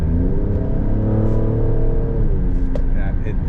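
Car engine with an Squadra performance tune and transmission tune revving steadily under load while driving, then a gear shift near the end, heard from inside the cabin as a loud continuous drone.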